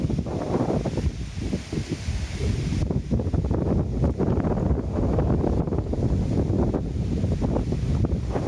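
Strong wind ahead of a storm over a garden, gusting hard against the microphone in a loud, continuous rushing roar, no voices.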